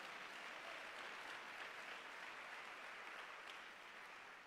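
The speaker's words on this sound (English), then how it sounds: "Clap your hands if you believe that with me tonight." A church congregation clapping together during an evening sermon, a steady dense wash of hand claps that holds level for several seconds and eases slightly at the end, with no voices over it.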